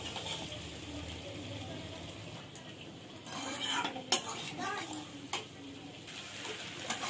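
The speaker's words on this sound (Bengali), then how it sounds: "আলু মশলার সঙ্গে ফুলকপিটা মিশিয়ে নেবো, একটু কষিয়ে নেবো।" Cauliflower being stirred into potato masala in a pan over very low heat: a quiet background sizzle with scraping and a few sharp clinks of the spoon against the pan, busiest toward the middle.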